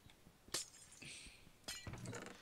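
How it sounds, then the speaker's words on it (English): Glass shattering in the Minecraft video game: two sharp, bright breaking crashes about a second apart, the second followed by tinkling fragments, quiet and alone with no talk. "I managed to open it by breaking the glass."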